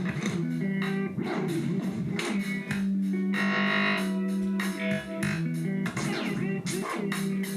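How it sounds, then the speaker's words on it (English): A sample run through the tape echo effect of a Roland SP-404 sampler plays as a loud, repeating rhythmic pattern of punchy hits with smeared, trailing echoes and a droning low tone, continuous throughout. "then we're going to add tape echo"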